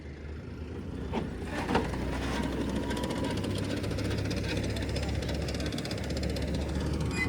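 A tractor-driven potato planter runs in a field with a steady, loud mechanical drone and rapid rattling chatter throughout, close by, constant and unbroken, with no talk.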